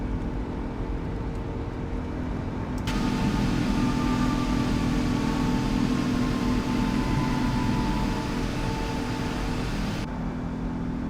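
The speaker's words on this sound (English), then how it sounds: "These engines sound fantastic. They have a much different sound." Simulated jet engines of a Boeing 777-200ER in a PMDG flight simulator roar as a steady, loud broadband drone that swells and holds for several seconds before dropping back to a quieter hum.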